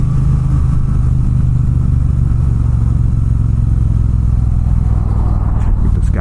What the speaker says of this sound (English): So fun to twist the throttle on this thing.